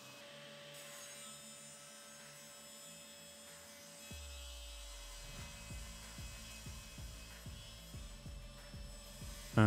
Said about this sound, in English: I ended up ripping the board around that thickness